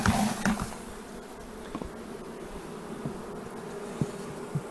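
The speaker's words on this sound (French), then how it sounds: "là un cadre de couvain ouvert, il doit y avoir des jeunes abeilles dessus" Young honey bees hum steadily on an open brood frame lifted from a hive, a close, continuous buzzing drone with a few faint knocks and clicks from handling the frame.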